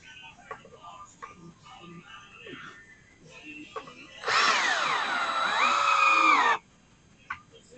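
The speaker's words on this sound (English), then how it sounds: "I'll drive my screws in from the bottom" A power drill drives screws into the underside of a wooden Adirondack chair, one steady whining burst of about two seconds with a pitch sag near the end, loud and close, with quieter handling knocks before and after.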